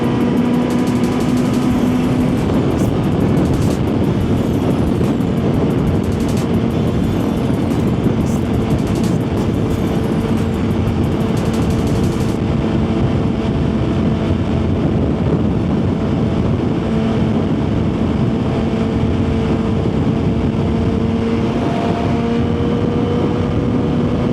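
Suzuki GSX-R1000 sportbike cruising down a highway, a constant loud engine drone under heavy wind rush that holds steady for the whole stretch, with no talking.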